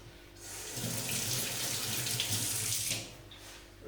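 A tap runs steadily into a sink for hand washing for a few seconds, close and clear, then shuts off.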